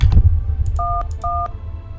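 Telephone keypad tones from the horror game No, I Am Not A Human, two clear two-pitch dialing beeps in succession, loud and close over a low background rumble.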